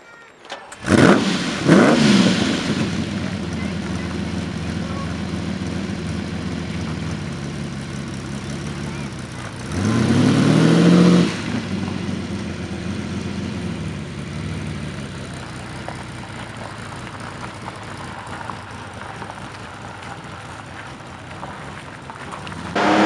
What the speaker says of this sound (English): The Countach was powered by a mid-mounted V12 engine